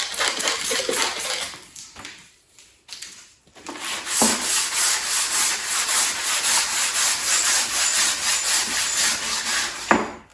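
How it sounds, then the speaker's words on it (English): A round block with 400-grit paper wet-sands the concave front of a one-piece chin spoiler on a second-generation Pontiac Firebird. Close, rhythmic rasping strokes run steadily, broken by brief pauses, with no speech. "400 grit, I'm using my round block because the front of that thing's got a little bit of a concave shape to it"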